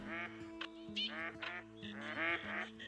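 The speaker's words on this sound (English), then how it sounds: "I've never seen this many ducks in one spot like this." A large flock of ducks quacking at a hunting spot, many overlapping calls in quick repeated bursts, fairly faint and distant with no voices.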